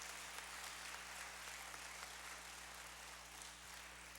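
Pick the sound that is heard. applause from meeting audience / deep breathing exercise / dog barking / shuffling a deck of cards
applause from meeting audience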